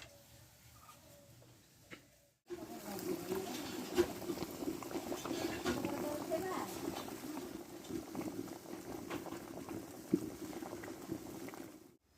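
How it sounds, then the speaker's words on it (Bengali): Eggs boil in salted water in a pot on the stove, a steady close bubbling roar that starts abruptly and continues evenly with occasional soft clicks and pops. "এবার ডিমটা আমি সিদ্ধ করে নেবো জালটা ধরিয়ে দেবো"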